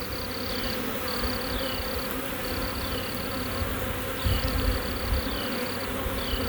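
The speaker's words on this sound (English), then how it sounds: "it's really helpful when you're trying to catch an aggravating swarm" Honeybee swarm buzzing steadily and densely in the open air, with individual bees whining past close by at intervals over the constant hum.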